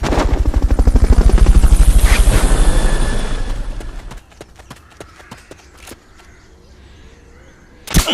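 Helicopter in the video game Metal Gear Solid: a loud, rapid rotor chop pulses for about four seconds, then drops away into quieter scattered clicks and thuds, with a sharp burst near the end.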